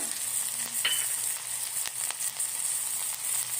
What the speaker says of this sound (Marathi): त्यानंतर कोथिंबीर टाकूया थोडं परतून घेऊ टाकूया हिंग